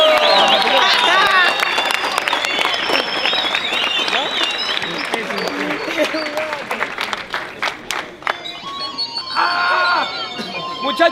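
A crowd at a freestyle rap battle tournament final cheers and claps loudly for a competitor, a dense, sustained wash of applause and shouts that thins toward the end.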